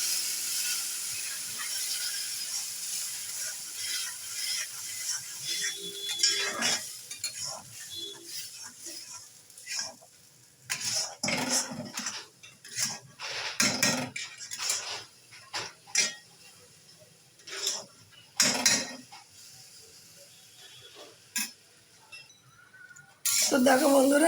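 Semolina and potato upma is stirred in a pan, making intermittent scraping and clinking strokes of the utensil against the pan, some sharp and close, with a voice talking between them.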